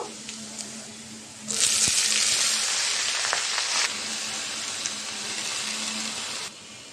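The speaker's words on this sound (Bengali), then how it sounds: "এখন শাক দিয়ে দিব" Kalmi greens (water spinach) go into a pan of fried onions, chillies and garlic, setting off a sudden loud hissing sizzle that holds steady for several seconds before dropping away, with no voices.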